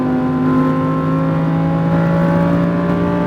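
A Lamborghini Huracan on a track at SpeedVegas howls at full throttle, a loud sustained engine note with strong steady harmonics that hold and rise slightly over a few seconds, close and continuous with no speech.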